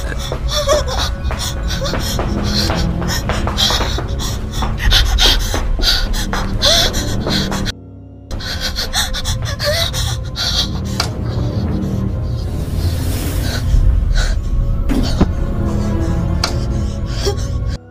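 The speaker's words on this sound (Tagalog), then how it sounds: "Maririnig ang hingal na hingal nitong paghinga sa kilabot" Heavy, ragged panting and gasping of a person running away in fright, continuous and close, with rasping breaths and a short break partway through.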